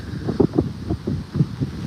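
Strong wind buffets the microphone in rough, rumbling gusts, a low blustery roar pulsing unevenly with no voices.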